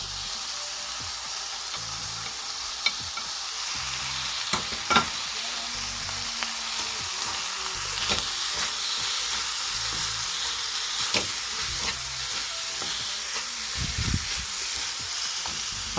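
Cabbage stir-frying in a pan with carrots being added sizzles steadily and loudly, broken by a few scraping stirs and knocks of a utensil against the pan.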